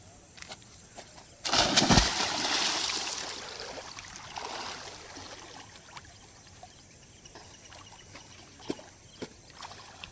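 A person entering swimming pool water during a swimming lesson, with a loud splash and rushing churn that settles into softer sloshing, followed by scattered small drips and ripples.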